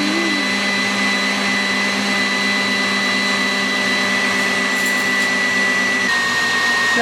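Electric mixer whipping egg whites with sugar for mamon, a steady loud motor whine with a constant pitch that holds throughout and shifts slightly near the end.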